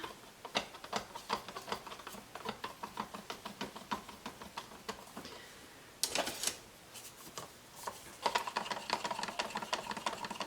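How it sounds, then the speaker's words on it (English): Green acrylic pour paint stirred in a cup, a close run of quick clicking scrapes and taps that continues steadily with a brief pause midway. "So we'll stir up our green."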